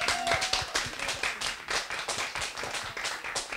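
An audience at a mulatós music show claps at a fairly quick, steady rhythm, crisp hand claps repeating at moderate loudness without pause.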